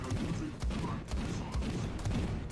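A shotgun fires buckshot in the video game Space Hulk Deathwing, producing several sharp, punchy blasts in an irregular rhythm over dense, noisy combat background, fairly faint overall.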